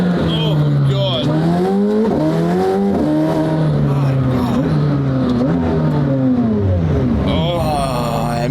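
Straight-piped McLaren Senna hypercar engine revs and drones up and down through the gears, with a deep exhaust boom, loud and close, while someone talks excitedly over it.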